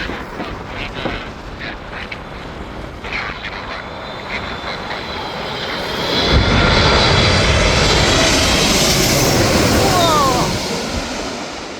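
A McDonnell Douglas MD-11 jet passing during plane spotting at Louisville airport, its engine roar swelling from a distant rumble to a loud, broad close pass, then easing off, with a voice talking briefly.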